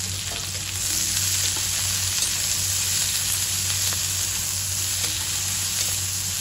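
Plenty of chopped onions fry in a pan for dry chicken adobo, giving a steady, close, loud sizzle that holds evenly throughout with no voices.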